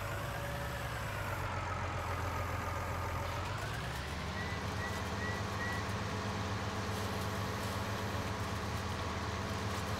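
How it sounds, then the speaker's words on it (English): A heavy John Deere 6155M tractor engine drones loudly, then its pitch climbs and settles into a sustained, strained roar while baling hay, continuing steadily throughout. "You can hear the engine roaring."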